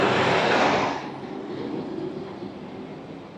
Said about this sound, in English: Exodus truck, I see them a lot.